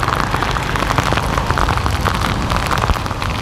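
Typhoon rain pours down in Saigon, a constant close hiss of water hitting surfaces with scattered heavier drops and a low rumble underneath.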